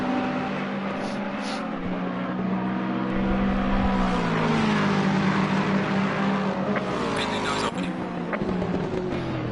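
GT3 race cars, including a Ferrari, racing at Laguna Seca in a video game, with loud, continuous engine drone and shifting revs as cars pass, under a commentator's voice.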